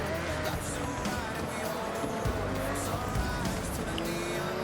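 A BMW in the racing game Forza Horizon 6 drones along on icy ground, its engine note steady with faint tire noise, while people talk over it throughout.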